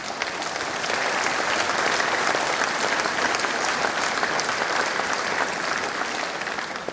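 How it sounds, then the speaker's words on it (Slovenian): An audience claps steadily and densely throughout, a sustained wash of many hands at an indoor ceremony for the 23rd Slovenian Beekeeping Day in 2026, with no voices rising above it. "Saj lepo, če ploskate"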